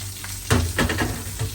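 Chopped garlic, ginger and green chillies frying in hot oil for a date pickle, a steady close sizzle with a few louder spits and stirring bursts.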